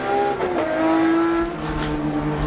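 Touring race cars, including a BMW 635, brake hard at the end of Conrod Straight at Bathurst in 1989, their loud engines dropping through downshifting pitch, with tyres scrubbing in the background.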